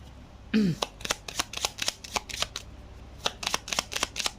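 Tarot cards are shuffled and drawn close up, a crisp series of rapid riffling snaps and flicks in uneven bursts, with a brief vocal sound near the start.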